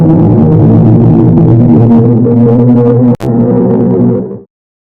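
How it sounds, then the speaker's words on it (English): Sonification of real black hole data, where heated gas spirals inward: a dense, sustained drone of layered tones and rumbling harmonics, loud and steady, briefly cut near the end before fading to silence. "gas heating up, spiraling toward a point with no escape."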